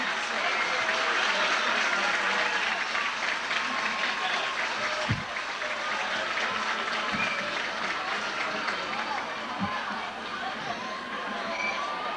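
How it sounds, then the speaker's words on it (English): Steady, dense applause from a large crowd in the stands at a 2000 high school homecoming football game, with scattered cheers and shouts, continuous and loud throughout, without a break. "Please give a round of applause for everyone."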